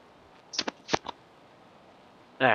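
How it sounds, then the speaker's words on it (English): A few quick papery riffles of cards being shuffled in a video game card match, short crisp bursts separated by brief pauses, then another flurry at the end. "I think he has to shuffle here"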